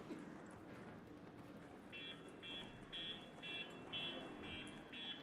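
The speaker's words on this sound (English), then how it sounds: "All these alarms, dude." Repeating electronic alarm tones pulse at a steady rhythm, about two per second, through a noisy ARC Raiders game scene with rolling bots, explosions and fire, starting partway in and continuing over constant background rumble.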